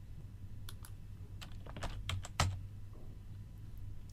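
Someone types a student's name on a computer keyboard, a short burst of quick, close key clicks with one louder tap near the end, fairly quiet and with no talking.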